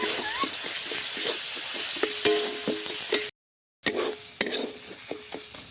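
A spice paste with turmeric and salt is sautéed in a pan, a steady soft sizzle broken by close scraping stirs of a spoon, with a brief full dropout partway through and no voices.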